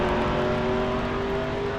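The number 85 Indy Racing race car of Joshua Wilkinson runs on track during All Star Race qualifying, a loud, steady engine drone held close and unbroken for the whole short stretch.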